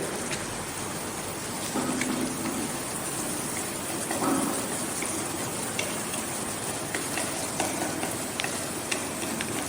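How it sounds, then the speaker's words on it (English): Chana dal being sautéed in a pan, a continuous, even hiss of frying with occasional soft stirring scrapes, moderately loud and steady, with no talking. "Chana dal has to be sauteed well."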